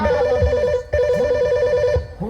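A telephone rings with a repeating electronic trill, two bursts separated by a short pause, loud and close, with muffled sounds underneath.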